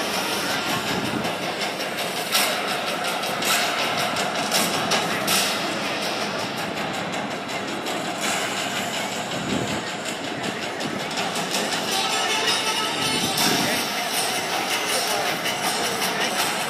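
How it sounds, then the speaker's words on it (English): M1A1 Abrams main battle tank driving past at an airshow, a steady loud rumble with clanking tracks and engine noise that holds throughout, with no talk over it. "The M1 Abrams main battle tank, capable of driving its speeds up to 60 miles per hour"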